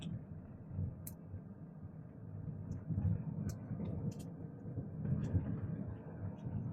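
Faint, steady low rumble of tyre noise heard inside a soundproofed Hyundai Santa Fe with large rims, cruising at about 50 km/h through a residential area. The hum stays smooth and even, with occasional light ticks.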